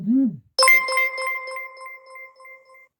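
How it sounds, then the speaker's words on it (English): A phone notification chimes close by: a sharp electronic tone followed by several quick repeated beeps that ring out and decay over a couple of seconds, preceded by a brief sliding vocal sound. "my freaking phone and all that is going off"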